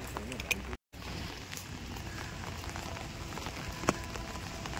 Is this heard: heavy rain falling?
yes